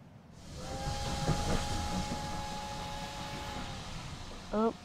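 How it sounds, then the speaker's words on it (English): A departing train in a Roblox game gives off a steady steam hiss with a sustained whistle tone, followed near the end by a brief bright chime. A voice can be heard faintly underneath. "The train is departing in 20 seconds."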